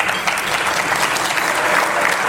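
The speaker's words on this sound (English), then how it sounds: "And if we can hold our applause." Audience applause at a police awards luncheon, a dense, steady clapping from a large crowd filling the room without pause.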